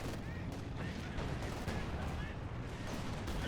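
Dense, continuous gunfire and battlefield rumble from a machine gun position in the strategy game Company of Heroes 2, loud and unbroken with scattered sharper cracks.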